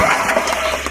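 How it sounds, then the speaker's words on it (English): A tiller's 5 horsepower Briggs engine, running on bad gas, chugs with a rough, uneven idle close by, sounding alone with a slight wobble in its running. "The engine sounds like it's got potential, but the gas is very bad."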